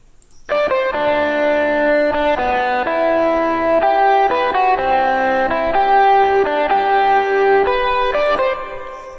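A distorted, effects-laden synth melody processed through a distortion plugin in FL Studio plays steadily with gritty, saturated tones and short note changes, loud and continuous throughout.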